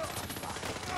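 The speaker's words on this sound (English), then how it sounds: "Harpoon gun." Rapid burst of overlapping gunfire from a harpoon gun in modded Fallout 4, dense and loud throughout with no distinct gaps, no talking.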